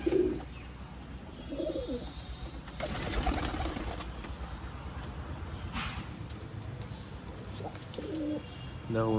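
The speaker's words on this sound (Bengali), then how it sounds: "আর এই যে দেখতে পাচ্ছ বাদ বাকি পায়রা সব খাচ্ছে এখনো" Pigeons coo softly inside a pigeon house where the flock is feeding, with low repeated calls surfacing every few seconds over a faint background of rustling and shuffling.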